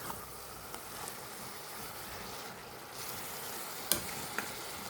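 Leafy greens fry in a pan while being stirred, giving a faint, steady sizzling hiss. A couple of sharp clinks from the utensil break through near the end.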